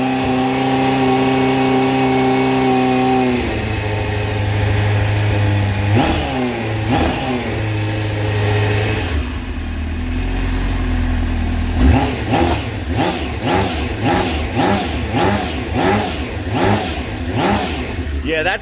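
A 2000 Suzuki GSX 600 R sport motorcycle engine idles, then blips its throttle in sharp repeated revs, rising and falling quickly, close by and loud.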